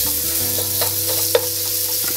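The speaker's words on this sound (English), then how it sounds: "So these are just strips of sirloin, marinated sirloin steak." Marinated sirloin steak strips sizzling in a hot pan in a home kitchen, a short burst of crackling fry with a few light pops and a faint background hum, no speech.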